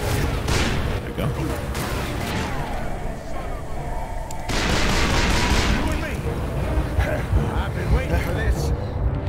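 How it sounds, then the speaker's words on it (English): Enemy gunfire in the Call of Juarez Bound in Blood western shooter, rapid bursts of shots and booming blasts crackling densely, loud and continuous throughout. "Hold up, we got guys up there shooting at us."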